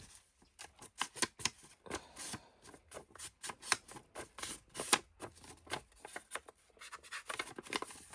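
Scissors trim the corners of small paper gift sacks in a run of short, crisp snips, each cut a sharp close click with brief pauses between, with no speech over it.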